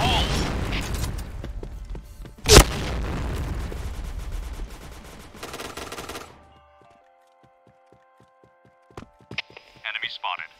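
A grenade goes off in the shooter game Point Blank as a single sharp, loud blast in the middle of ongoing rattling gunfire. The clatter carries on for a few seconds, then drops to near silence with a few faint sounds afterward.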